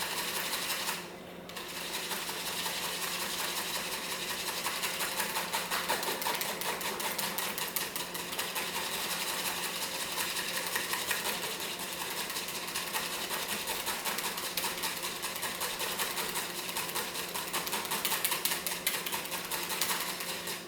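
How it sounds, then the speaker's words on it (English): A whisk beats freshly microwaved lime and lemon butter in a bowl, ticking in a fast, even clatter that continues for about twenty seconds at moderate volume after a brief pause near the start. "so now I need to give it a quick beat, so whisk it up, just to bring some fluff into it."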